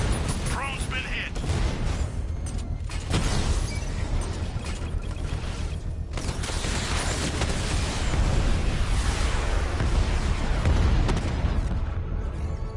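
Explosions and booming blasts as a drone is hit in the video game Batman: Arkham Knight, dense and continuous under game music and voices, with heavy low rumble throughout.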